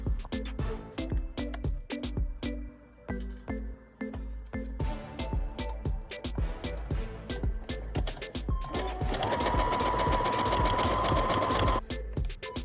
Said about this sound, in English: You're going to sew the elastic into the inside.